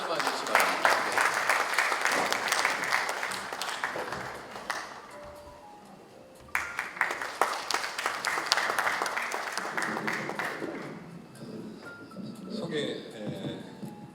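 An audience at the Sejong Forum lecture on global drug development claps in a full, steady round of applause, briefly thinning midway before swelling again, then fading as voices emerge at the end.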